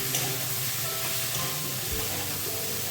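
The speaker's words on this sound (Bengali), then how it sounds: "এরপর বেশ ভালোভাবে আলু বেগুন ভেজে নেব। আস্তে আস্তে ভাজবো।" Potatoes and eggplant frying slowly in a pan, giving a steady, even, low sizzle with no distinct stirs, moderately quiet and close, with no one speaking.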